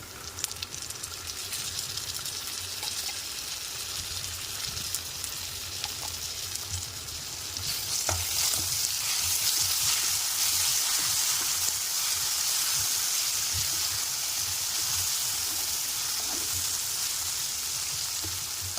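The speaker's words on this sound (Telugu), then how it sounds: "అల్లం పచ్చివాసన వేరే వరకు ఫ్రై చేసుకోవాలి" Ginger paste frying with mint leaves in a pan for a potato masala curry, a steady close sizzle and hiss that swells louder about halfway through, with no talking.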